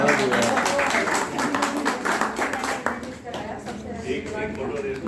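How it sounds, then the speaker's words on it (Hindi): Audience clapping at a film launch party, a dense patter of many hands close by that runs the whole stretch, mixed with chatter and talking voices. "ताली तो बजाओ"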